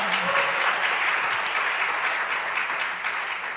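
Audience applause at a formal programme launch in Nigeria, a steady wash of clapping from a large crowd that carries on evenly for several seconds before easing slightly.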